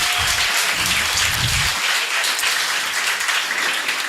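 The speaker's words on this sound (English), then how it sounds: "Can we give a round of applause to Cape Flat Stories" A crowd at a live community bench unveiling breaks into a dense, loud round of applause that carries on steadily throughout.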